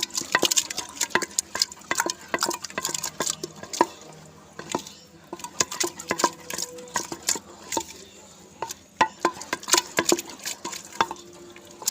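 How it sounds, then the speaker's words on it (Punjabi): Kalmi saag is mashed and stirred in a pot with a wooden masher, making close, irregular knocks and wet squelches that repeat in uneven bursts. "ਆਪਾਂ ਨੇ ਘੋਟਣੇ ਦੇ ਨਾਲ ਬਿਲਕੁਲ ਇਸ ਨੂੰ ਘੋਟ ਲੈਣਾ ਤਾਂ ਜੋ ਕੋਈ ਵੀ ਗੱਠ ਨਾ ਬਣੇ"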